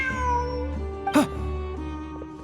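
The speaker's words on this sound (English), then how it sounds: "Look, a cat." A video game cat gives a single short meow midway, clear and close over a steady humming game soundtrack.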